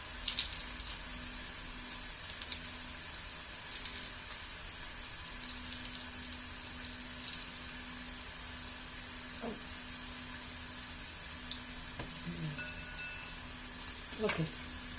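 Egg stirred through a hot pan of frying food for a home dinner, a soft continuous sizzle broken by occasional scraping strokes, with a faint voice in the background.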